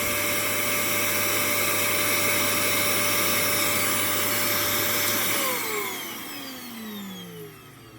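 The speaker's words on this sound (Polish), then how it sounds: "Jest sam odkurzacz, ale za to działający bardzo dobrze" Zanussi ZAN2301 1400 W vacuum cleaner, body only with no hose or nozzles, running with a steady loud whine and hum that winds down after about five seconds as it is switched off.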